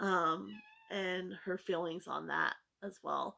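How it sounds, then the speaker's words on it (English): A small male house cat meows indoors, short tonal cries breaking in between stretches of someone talking nearby, fairly close and clear. "You can hear the cat meowing."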